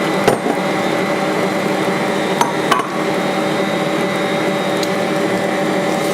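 An electric mixer creaming banana bread batter, giving a continuous loud whirring drone throughout, broken by a few brief clicks and knocks.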